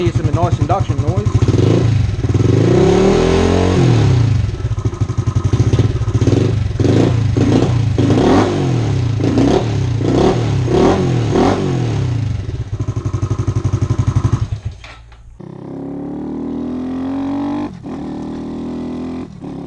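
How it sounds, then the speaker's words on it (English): Honda Grom motorcycle fitted with an eBay cold air intake, its small engine revving repeatedly with loud induction roar and rapid blips up close, then dropping to a rougher idle near the end. "Can hear some nice induction noise."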